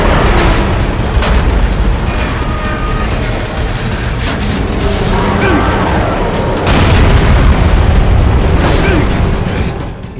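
A rocket explosion in the video game Dying Light: a heavy, sustained roaring blast with dense rumble filling the whole stretch, swelling again near the end, loud and close.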